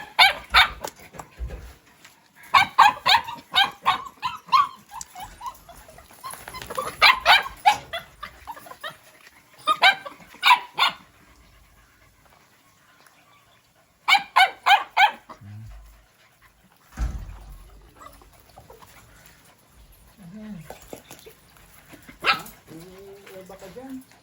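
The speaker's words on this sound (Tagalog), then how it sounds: "So bibigyan natin itong pagkain ng aso" Dog barks in short bursts, several rapid yaps and woofs close by, with people talking in between and some whimpering noises.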